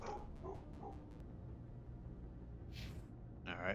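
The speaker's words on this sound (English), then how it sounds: "So, yeah, I got Miss Bella, our dog, barking." A pet dog named Bella barking indoors, a few quick faint barks early on followed by scattered distant noises over a quiet background hum.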